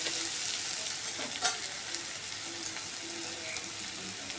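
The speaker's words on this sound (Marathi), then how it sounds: "छान असं परतवून घेऊया" Paneer 65 sautéing in a pan with coriander powder and black pepper, a steady close sizzle running throughout with a few faint clinks and stirring scrapes, no voices.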